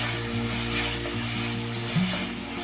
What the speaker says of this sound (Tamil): இப்போ இதை நல்லா பச்சை வாசனை போகிற அளவுக்கு நல்லா வதக்கிடலாம்.